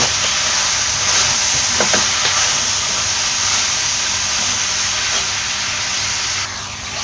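Chicken biryani is stirred in a pan with chopped coriander and mint, giving a steady, close sizzling hiss with faint scraping and stirring knocks throughout and no talk.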